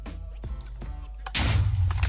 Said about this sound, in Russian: наш танк еще и стреляет